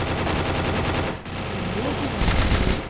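Gunfire in a pistol-focused online shooter game, rapid bursts of shots in close succession that drop out briefly, then return louder and denser.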